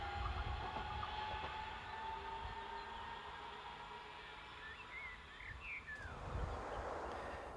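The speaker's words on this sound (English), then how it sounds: "It approaches the station on a delayed DGS 52584 from Hamburg to Regensburg container train." A delayed EGP Class 151 electric locomotive, number 131, hauls a Hamburg to Regensburg container train into a station, giving a steady low rumble and rolling noise throughout, with brief bird-like squeals near the end.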